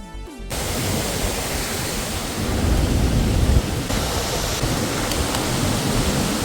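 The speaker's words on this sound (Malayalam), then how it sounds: "ഈ വെള്ളച്ചാട്ടം ഇത്രമേൽ അടുത്തു നിന്ന് ഷൂട്ട് ചെയ്യാൻ പറ്റിയതിൽ എനിക്ക് വളരെയേറെ അഭിമാനം തോന്നി" A waterfall in Idukki roars from very close range, a steady, dense, loud wash of falling water that continues unbroken throughout with no voices.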